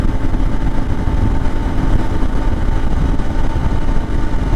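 An IBEX 450 motorcycle fitted with a 15-tooth sprocket cruises at 70 mph, giving a loud, steady engine drone blended with constant wind rush and no break in the sound.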